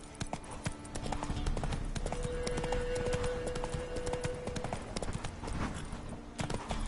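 Hoofbeats of the horse Roach trotting in The Witcher, a steady clip-clop rhythm running throughout at moderate level, with a faint tone and some background game sound beneath.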